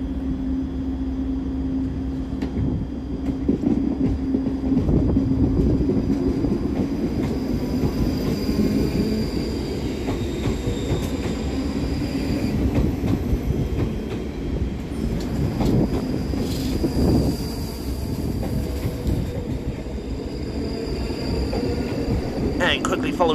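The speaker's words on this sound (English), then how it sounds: "Out to depart is 334019 and 334023, working the 1508 ScotRail service to Helensburgh Central." Two coupled ScotRail Class 334 electric multiple units pull out of Edinburgh Waverley station, giving a steady, loud rumble of traction and wheels on rail that persists throughout, with station ambience and occasional higher squeals layered on top.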